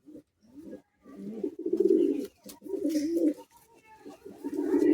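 Madrasi high-flying pigeons coo close by in deep, throaty rolling bursts, several overlapping calls with short pauses between them.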